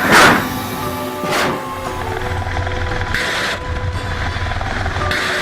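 A Russian helicopter built in Kazan runs with a loud, continuous broadband roar, marked by a couple of sharp bursts early on and periodic surges in the noise.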